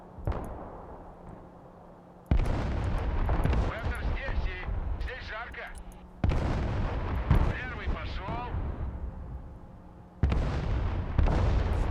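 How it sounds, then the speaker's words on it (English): Distant gunfire and artillery from a Broken Arrow real-time strategy battle, heavy booming volleys in three long bursts with rumbling tails and crackling impacts, mixed with faint voices. "they're shooting all the way from over there"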